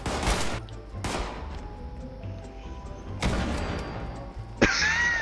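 Gunfire in the video game Fallout 76 cracks out in several sharp bursts spread irregularly over a few seconds, loud against a low, steady game background, with a brighter metallic hit near the end.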